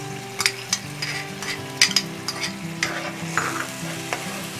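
Tomatoes stir-fried in oil for soya chaap curry, a steady sizzle broken by repeated sharp scrapes and clinks of a spatula against the pan, close and alone.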